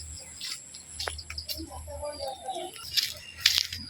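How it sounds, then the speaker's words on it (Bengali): Birds call outdoors under a cloudy sky after a storm, their faint, brief chirps scattered over a soft background of insect buzz and low rumble, with two clearer high tweets near the end. "কত সুন্দর পাখি ডাকতেছে"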